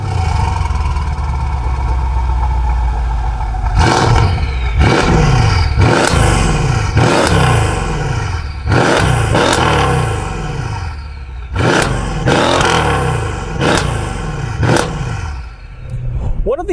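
A tuned 750 hp Mercedes S63 AMG sedan accelerates hard through a series of loud, roaring engine surges, about ten bursts in all. Each surge climbs in pitch, then drops sharply at the gear change.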